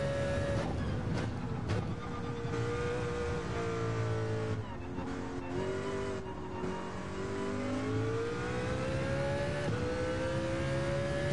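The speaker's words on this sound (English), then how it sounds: "I love the sound of the car." A race car engine in Gran Turismo 7, heard from the cockpit view, drones and revs continuously, its pitch rising and falling through gear changes at a steady, full level with no talk.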